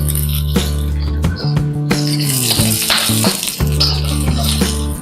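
Onion and garlic frying in a pan for chicken lomi, a bright steady sizzle close by, broken by several loud metallic scrapes and clanks of a utensil against the pan.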